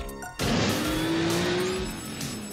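A cartoon car engine revs up loudly and zooms away, a rising whine trailing off over a couple of seconds.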